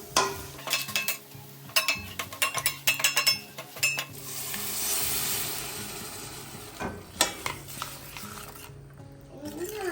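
Green peas are stirred into sizzling Mount Fables garam masala in a pan, with a steady frying hiss beneath clattering spoon scrapes and clinks against the metal, loud and close.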